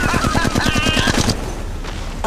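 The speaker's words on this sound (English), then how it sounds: "I'm taking fire." Gunfire in Apex Legends arrives as a rapid automatic burst of about a dozen close, loud shots, then cuts off, leaving quieter game noise.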